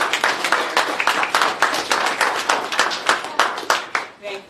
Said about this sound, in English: let's give a nice round of applause for State Senator Andrew Steele